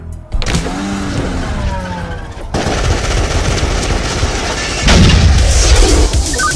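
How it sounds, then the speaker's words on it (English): Gunfire from a shootout scene in the film Kung Fury: loud, dense bursts of automatic fire blended with a car engine and whining tones, intensifying toward the end, with no speech over it. "All units, we have an ongoing shootout at 24th and Northwest Street"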